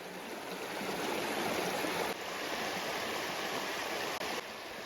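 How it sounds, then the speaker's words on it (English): A small river flows just below a hillside campsite near the Pinnacles in the Kauaeranga Valley, Coromandel, giving a steady, full broadband rush of running water that stays constant and fairly close throughout, with no voices. "And there's our little river just down there."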